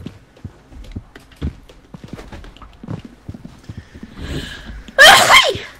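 One abrupt, loud sneeze bursts out near the end, after a few seconds of quiet, scattered thumps and knocks.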